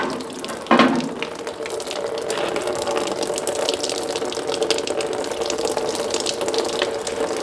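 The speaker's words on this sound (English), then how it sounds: "Maybe I'll just do this for a while. Let most of it drain out." Coolant pours steadily from a John Deere MT tractor, a continuous splashing trickle of liquid into a container that starts with a brief gush and then runs on evenly, close by and alone.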